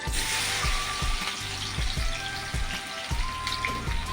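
Crushed garlic frying in hot oil in a pan, a steady close sizzle with crackling bursts that recur roughly every half second, no voices.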